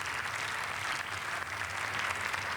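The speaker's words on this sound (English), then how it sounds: "We thank them by this applause" Members of the German Parliament applaud in the plenary chamber, a steady even wash of clapping from a large hall, continuous and moderately distant without a break.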